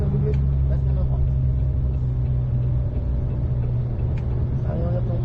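McLaren 600LT on a race circuit, heard from inside as a steady, loud low engine drone with gear changes barely distinguishable, under a voice talking.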